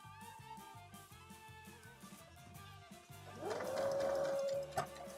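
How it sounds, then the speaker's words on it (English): A sewing machine runs quietly with a steady, rhythmic mechanical pulse, and a brief higher whining tone rises over it partway through. "the sewing machine noise might be a little too loud"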